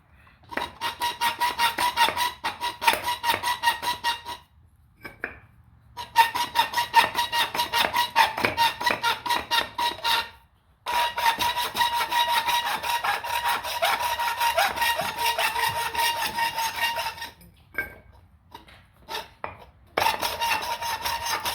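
A nitrous plate part for an engine install is cut down with long runs of steady, rhythmic rasping cutting strokes, broken by brief pauses, close and fairly loud with no talking.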